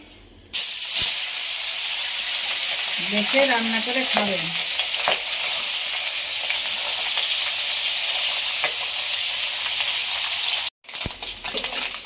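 Live local shing fish sizzle steadily and loudly in hot oil in a kadai, a dense continuous hiss lasting nearly the whole stretch, with a short spoken phrase briefly over it.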